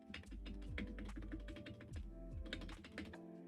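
Typing on a Wooting 60HE keyboard straight out of the box, a fast, dense run of close, crisp keystrokes with deeper thocks from larger keys, heard alone.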